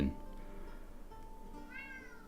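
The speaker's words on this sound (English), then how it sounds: "I don't know if you can hear my cat." A pet cat meows outside a room, one soft, muffled call late in the moment after a brief knock at the start, faint against a quiet indoor hum.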